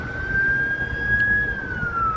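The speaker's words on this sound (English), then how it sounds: "It's like the third ambulance." An ambulance siren wails in a steady, sustained tone that drifts slightly lower as it passes at a moderate distance, over low traffic rumble, with no voices.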